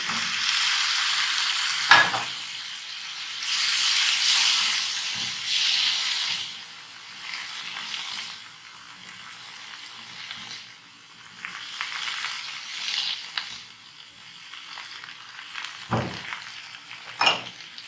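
Chickpeas frying in oil in a pan for chana samosa, a steady broad sizzle with intermittent stirring scrapes and a couple of sharp utensil knocks, close and moderately loud with no talking.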